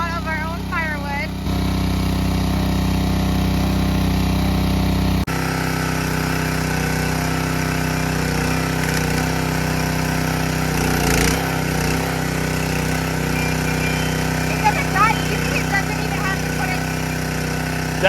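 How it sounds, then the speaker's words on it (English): A newly bought log splitter's engine runs steadily, a continuous mechanical drone at close range that holds through the whole stretch, with a person speaking over it now and then. "First time turning on our new log splitter."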